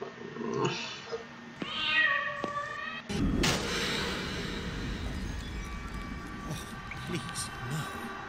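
A cat meows several times in the video game The Lost Crown, clear plaintive calls near the start, followed by a thud and a steady background ambience.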